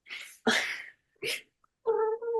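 A cat meows loudly for attention, several separate calls close to the microphone: two drawn-out cries, a shorter one and a final tonal, wavering meow, with silence between them.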